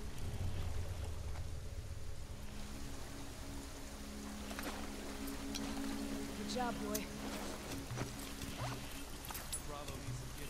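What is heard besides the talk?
motor boat driving in video game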